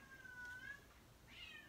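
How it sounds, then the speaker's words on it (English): A domestic cat meows faintly in a quiet room, one long drawn-out call followed by a shorter, higher one after a pause. "There's my cat."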